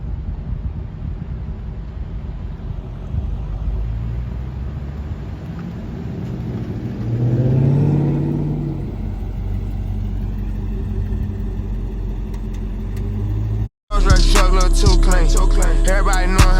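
A Dodge Charger or Challenger fitted with LED side markers rolls past on the road: a low engine rumble swells to its loudest midway, then eases off before music cuts in abruptly.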